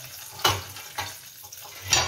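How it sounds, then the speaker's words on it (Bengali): Chicken pieces fry in hot oil, a faint soft sizzle broken by a few brief louder bursts as pieces shift or are stirred. "এখন আমি আর যে 2 পিস রেখেছিলাম ওই 2 পিস আবার ভেজে নিব"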